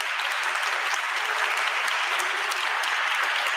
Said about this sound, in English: please give a big applause to Annika and Niels